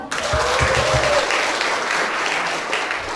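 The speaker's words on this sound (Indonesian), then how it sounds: "Tepuk tangan." Crowd applause at a youth Christmas gathering, a dense sustained clapping that fills the whole stretch at steady loudness with a faint voice near the start.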